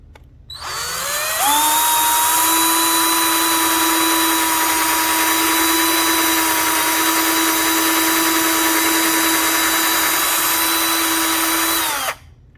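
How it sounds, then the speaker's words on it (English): Power drill boring a pilot hole for a mini blind install, a steady loud whine that spins up, holds for about ten seconds, then cuts off abruptly. "So I'm going to drill that pilot hole now."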